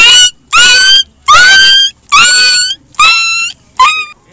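A voice imitates a dog dying after being hit by a truck, six loud drawn-out whining yelps with short gaps between them, close and alone.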